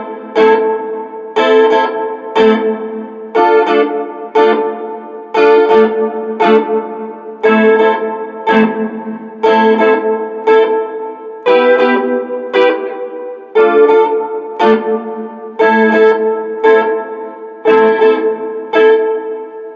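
An electric guitar through a Boss Super Chorus CH-1 pedal plays short choppy chords in a steady repeating rhythm, shimmering with a chorus-like wash, loud and clear with no voices.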